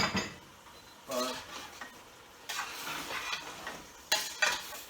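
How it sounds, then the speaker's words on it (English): Stirring food in a pot for a Liberian dish of corn beef and rice, potato greens and okra sauce: a few short bursts of scraping and clinking, separated by quiet stretches, close and moderately loud, no voices. "then you stir it up"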